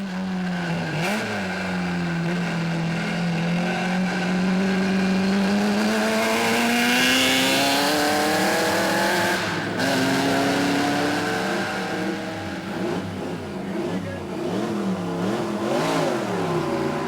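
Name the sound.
Bugatti 512 racing car, 3-litre 8-cylinder engine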